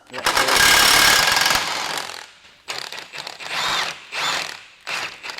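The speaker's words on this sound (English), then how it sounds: "Now that we've got this supported, we're gonna go ahead and take out the bolts." Power tool removing bolts while a lift kit is fitted to a 2020-25 Kia Telluride: one long, loud whirring burst, then several shorter bursts separated by brief pauses.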